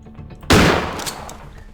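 A single sharp, loud gunshot in the horror video game Granny, fired at Granny, with a short fading tail after a quiet lead-in.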